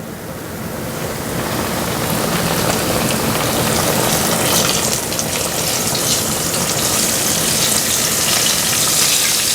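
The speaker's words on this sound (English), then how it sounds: "I think my oil is getting pretty hot here, so I'm going to add my pork chops to it." Pork chops frying in hot oil, a loud dense roaring sizzle that swells as the meat goes in and then holds steady, close with no talking.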